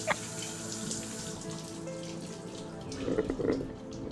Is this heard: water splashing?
yes